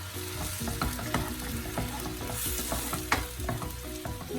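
Chicken stirred into gravy in a pan, sizzling and frying steadily throughout while a utensil scrapes and clacks in an irregular rhythm up close, with no voices.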